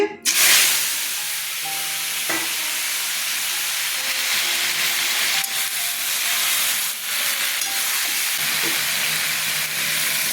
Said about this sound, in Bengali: পটলগুলো ছেড়ে দিচ্ছি